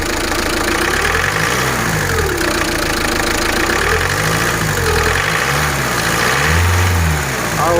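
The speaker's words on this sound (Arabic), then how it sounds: "هاي كي جات تتشاك اسمع الكليكاج." A car engine idling, then revved in several rising and falling surges, with a metallic knocking clatter that grows with each rev, heard close and loud with no talking.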